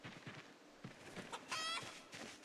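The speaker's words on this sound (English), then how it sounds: "Oh, there's chickens here." Chickens clucking in a survival video game, faint soft clucks and a brief squawk at low volume.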